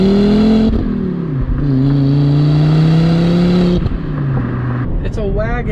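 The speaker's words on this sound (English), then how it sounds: "the turbo, it hits, and then you just keep going, and keep going, and keep going." A Volvo V70R wagon's turbocharged engine pulls through the gears, its strong drone rising in pitch, dropping at each shift, then climbing again, loud and close from inside the cabin.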